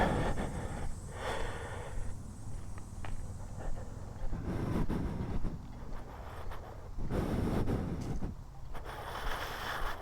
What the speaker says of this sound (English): breathing in the GoPro is so loud